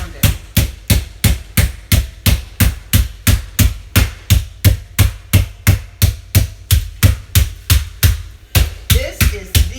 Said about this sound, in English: So I'm using the flat side, and I'm going to pound it.